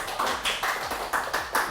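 A small audience claps in a quick, uneven patter of a few distinct bursts, close by, with no talking over it.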